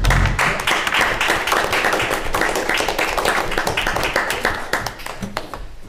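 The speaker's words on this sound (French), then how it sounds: "On vous applaudit pendant que nos juges calculent." A quiz match audience claps for the players in brisk, dense applause that starts loud and thins out toward the end.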